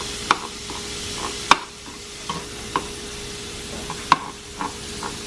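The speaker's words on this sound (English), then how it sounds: "So you put the meat down and you want to chop it up as it's cooking." Philly cheesesteak meat frying on a hot surface makes a low, even sizzle, with sharp chopping and scraping clicks spaced irregularly across it, and no voices.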